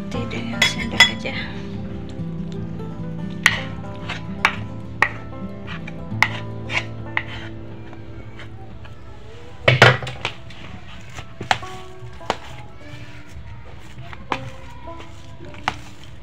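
A metal spoon clinks and scrapes against a bowl while mixing potato for croquettes in irregular bursts, with a louder clatter midway, close and clear with no talking.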